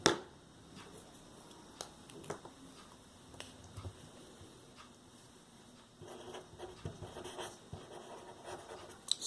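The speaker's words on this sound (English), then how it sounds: "let me write here." Marker or chalk writing on a board during a signals lesson, faint scratchy strokes and taps coming in scattered bursts, quiet and close, with no talk.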